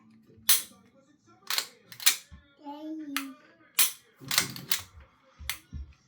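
Semi-automatic pistol being handled, its slide racking back and forward to chamber a round, giving several sharp metallic clicks and clacks in close succession, loud and near, with a brief voice in between.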